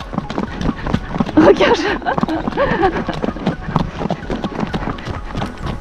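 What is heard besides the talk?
horse trotting, clip-clop of hooves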